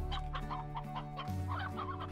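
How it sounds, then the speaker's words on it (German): Hens and a rooster in Slime Rancher give a continuous series of close, repeated clucks over the game's steady background music, with no voices. "Zwei Hühner, die wir loswerden können."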